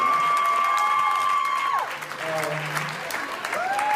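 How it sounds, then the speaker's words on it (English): An audience applauds after a play, a dense patter of clapping heard together with sliding electronic tones that rise and fall over it. "Let's do a round of applause."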